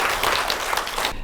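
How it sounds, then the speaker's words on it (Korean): An audience at a Yonsei University science lecture applauds to welcome the professor, a brief, fairly loud burst of clapping that cuts off quickly. "그럼 박수로 교수님 강의 청하도록 하겠습니다."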